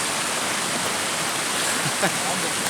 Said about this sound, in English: look at that waterfall, guys. That stream is awesome.